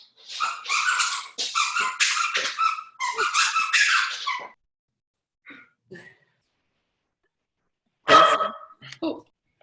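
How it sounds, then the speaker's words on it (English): A dog barks excitedly in a rapid volley of close, loud barks for several seconds, goes quiet, then lets out a few sharp yips and whimpers. "my dog barked like crazy"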